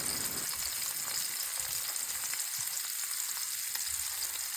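Fish fries in hot oil in a pan, a constant bright sizzle and crackle close by, with a few soft stirring or shifting knocks underneath and no talking.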